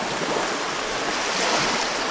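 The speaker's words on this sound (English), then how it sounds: "Standing wave right in the middle of the stream here as it joins Lake Michigan." Waves where a stream flows into Lake Michigan, forming a standing wave at the mouth over an eroding shore: a continuous loud rushing wash of water with wind noise, no voices.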